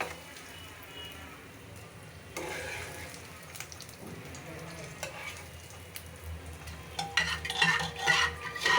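Tomato dal being tempered and stirred in a pan, a low continuous sizzle with clinks and scrapes of a spoon against metal, growing louder and more bubbly toward the end, close by.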